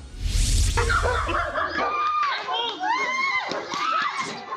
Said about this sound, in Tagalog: Sigaw ng pagmamakaawa ang maririnig sa videong yan.